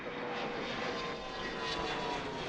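An airplane departs with a steady, broad jet engine roar at moderate distance that swells slightly as it passes, with no voices.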